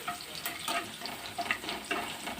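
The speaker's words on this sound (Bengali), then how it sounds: "একটু রসুনটা হালকা হালকা ভাজা হয়ে গেলেই" Soft sizzling and light frying noise of garlic in oil with faint scraping, steady and close, no voices present.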